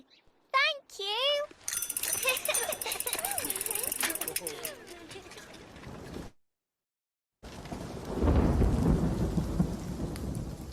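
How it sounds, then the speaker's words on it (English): Rain and thunder in a children's cartoon: after bright cartoon voices and jingles, a silent gap gives way to a loud rumbling thunder crash over steady falling rain. "Oh dear, it's raining."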